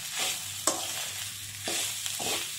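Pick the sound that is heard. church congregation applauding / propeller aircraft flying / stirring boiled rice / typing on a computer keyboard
stirring boiled rice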